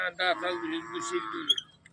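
A bull at a livestock market in Wakhari, held for the Magh pilgrimage, gives one drawn-out moo close by, loud at first and then fading, with faint voices around it.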